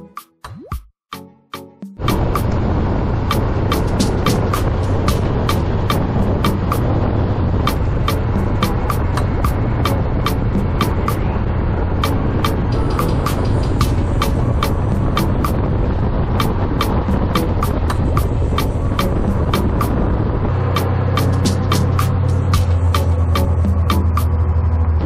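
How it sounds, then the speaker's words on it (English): A UTV starts up and drives steadily, its engine droning close and loud with continuous rumble and rattling, clicking ticks over the ride, settling into a lower idle near the end. "We're gonna go for a UTV ride."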